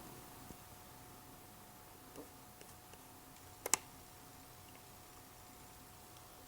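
Computer mouse clicks while using nutrition software on a computer, a faint sparse few clicks with a close double click, over quiet room noise.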